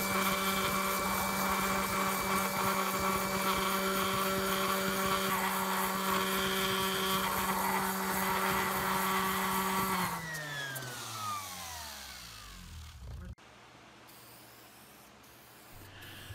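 A power sander works a wooden deep-reach C clamp with a steady, loud motor whine. The whine then winds down and falls away into near quiet.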